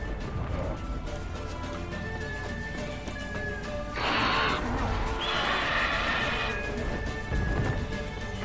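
A horse in The Witcher 3 on next-gen PC lets out two bright, drawn-out neighs in the middle of a continuous game soundscape.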